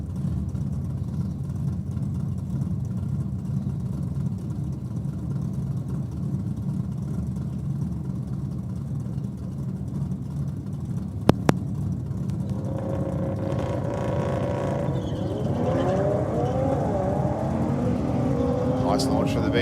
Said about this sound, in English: Nice launch for the BMW in the Aeroflow lane there.